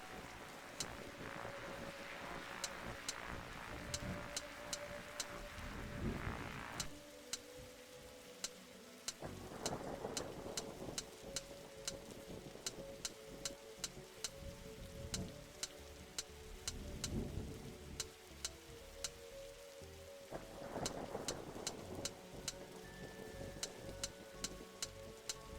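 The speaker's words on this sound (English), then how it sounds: "Look, detective, the storm is dying out." Thunderstorm with steady rain in the video game Darkside Detective, a constant hiss of rainfall broken by several low rolling thunder rumbles spread across the stretch, fairly quiet overall.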